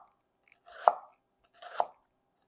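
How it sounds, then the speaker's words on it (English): A knife makes two separate crisp downward cuts through a shallot onto a cutting board, each a short crunching slice ending in a soft knock, close and clear in a quiet room. "We're going to make a series of vertical cuts that are relatively fine."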